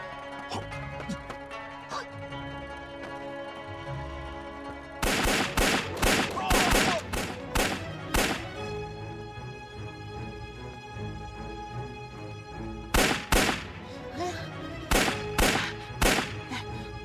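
Gunfire rings out near a house in a wartime fight with Japanese soldiers, two loud bursts of rapid sharp shots separated by a quieter stretch, fired close by and standing alone without talk.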